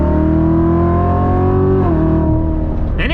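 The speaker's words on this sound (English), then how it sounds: "every single time you accelerate one of these things, that exhaust opens up, that supercharger starts to whine" A stock supercharged car accelerates hard, its exhaust opening up as the engine note climbs steadily with a whining supercharger over it, loud and close, shifting pitch near the end with no talk.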